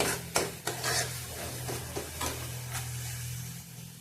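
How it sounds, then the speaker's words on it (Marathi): Egg curry masala roasts in oil while a spoon scrapes and knocks against the pan in irregular strokes, over a soft sizzle and a low steady kitchen hum. "मसाला चांगला तेलात कच्चापणा निघून जाईपर्यंत भाजून घ्यायचा आहे"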